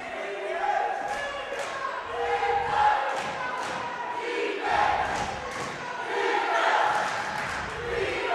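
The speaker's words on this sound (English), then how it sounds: "Crowd getting loud." High school boys basketball crowd in a gym, Ellenville against Rhinebeck, swells into loud rhythmic chanting and shouting, rising and falling in waves with thuds from the court underneath.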